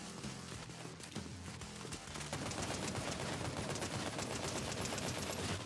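Rapid sniper rifle gunfire in a video game, dense overlapping shots forming a loud continuous roar that grows stronger halfway through, with no clear separate reload clicks.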